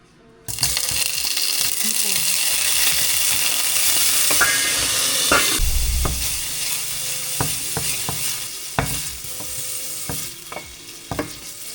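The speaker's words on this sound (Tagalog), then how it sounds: "Prito ko muna yung hipon." Steady sizzling of shrimp frying in hot oil, with occasional clinks and scrapes of utensils against the pan.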